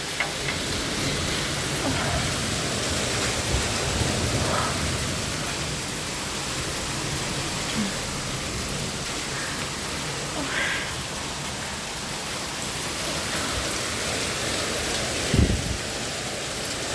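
Steady rain, mixed with hail during a thunderstorm in Eskişehir, hisses evenly throughout, a dense wash of falling drops with a few faint distant calls.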